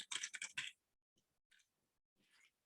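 Typing on a computer keyboard during a design class: a quick burst of close, crisp key clicks, then a pause and a few softer scattered taps.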